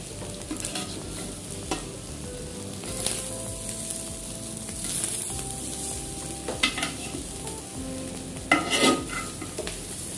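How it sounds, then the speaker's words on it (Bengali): Rice and vegetables for veg fried rice stirred over medium heat in a pan, a steady sizzle under repeated scraping and tossing of the spatula, with occasional louder clanks against the metal, no voices. "মাঝারি আঁচে আমি ভাত আর সবজিগুলিকে হালকা হাতে মিশিয়ে নিচ্ছি।"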